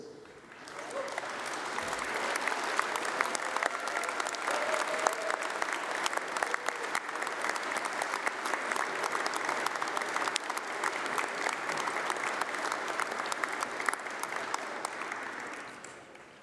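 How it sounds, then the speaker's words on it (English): Sustained applause from a large audience at a university graduation ceremony, rising quickly and holding a steady, dense clapping roar for over ten seconds before tapering off. "please stand up as we give you a round of applause, please."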